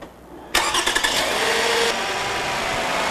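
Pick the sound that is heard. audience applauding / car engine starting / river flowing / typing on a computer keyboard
car engine starting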